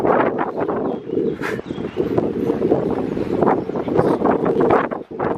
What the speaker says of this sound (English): Actually, today is very windy.